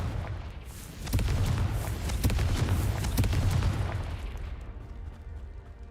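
Confringo blasting spell in Hogwarts Legacy, a deep booming explosion with a rumbling low burst that swells over a few seconds and then fades.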